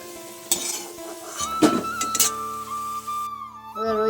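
Fried taro pieces are stirred and lifted from hot oil: metal utensil clinks and scrapes against the pan over a faint sizzle, with a few sharp knocks and a sustained tonal ring from the cookware.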